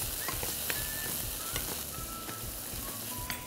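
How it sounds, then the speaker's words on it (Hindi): Chopped carrot, tomato, green capsicum and half-boiled corn stir-fry in a pan with a steady close sizzle, with light scraping stirs and small ticks throughout. "इन सब्जियों को पहले हमें अच्छे से स्टर फ्राई करना है।"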